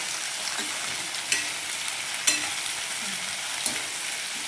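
Onions with green chillies, curry leaves and turmeric fry in a pan with a steady, close hissing sizzle, broken by a few sharp clicks of a stirring spoon.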